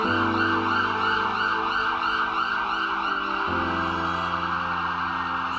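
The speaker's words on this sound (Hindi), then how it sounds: "बिल्डिंग में एम्बुलेंस आई है और किसी बीमार व्यक्ति को लेकर जा रही है।" A wailing ambulance siren sounds loudly and continuously, cycling through its two-tone pattern with a low engine rumble beneath; no talking.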